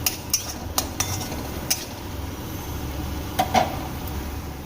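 Spice masala with salt and turmeric being stirred and fried in a pan for lau chingri, bottle gourd with prawns cooked in little oil, with a few sharp spoon clinks against the pan over a steady low sizzle.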